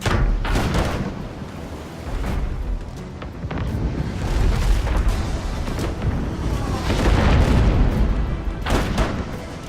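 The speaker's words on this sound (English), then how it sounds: "Let's throw another mortar right here" Heavy booming mortar fire from a ship in the naval combat game Abandon Ship, several deep thuds and rumbling blasts spread across the stretch, loud with a roaring, battle-like din between shots.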